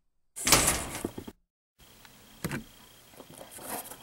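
A metal security door slams shut in the Five Nights at Freddy's horror game, a loud abrupt clatter followed by a brief silence and then faint mechanical room noise with small clicks.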